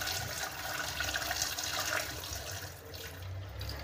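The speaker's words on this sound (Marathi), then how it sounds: "आता हे पाणी ओतून काढणार आहे, हळूहळू ओतून काढायचंय" Water is poured slowly off soaked wheat grains, a steady splashing trickle that thins out near the end.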